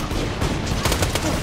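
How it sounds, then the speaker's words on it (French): Rapid gunfire in the Borderlands 2 video game, a dense burst of overlapping shots sustained for the whole short clip and loud throughout. "Pourquoi il tire là en fait?"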